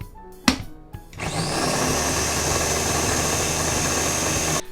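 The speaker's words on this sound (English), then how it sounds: "We're gonna do 3 fudge stripe cookies and put them in the processor." A food processor starts up on three fudge stripe cookies after a lid clunks into place, whirring loudly and steadily as it chops, close and alone.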